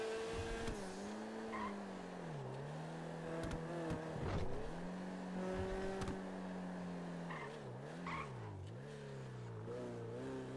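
A car is driven with the engine rising and falling through repeated revs and shifts, with bursts of tire squeal and brief sharp knocks, close and continuous throughout.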